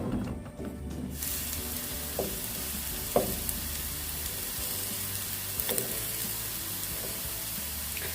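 Sweet potato pieces, about 85% precooked, sizzle steadily in two spoonfuls of cooking oil in a pan for candied sweet potato. A continuous, close frying hiss runs throughout with a few soft clinks, and no one speaks.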